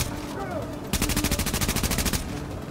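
Rapid automatic gunfire from a shooter game, Tom Clancy's The Division, bursts in after a quiet start and rattles on loudly and steadily for over a second before stopping abruptly, with a player's voice faintly underneath.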